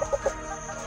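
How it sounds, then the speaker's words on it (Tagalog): Three quick, soft clucks from chickens come close together at the start, followed by quiet farmyard background. "So dami lang manok dito."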